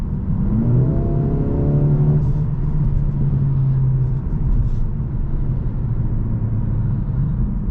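The 2023 Mercedes-AMG CLA 35 Coupe accelerates hard in Sport Plus mode, its engine note rising through a revving sweep before settling into a steady, close cabin drone, with no talking.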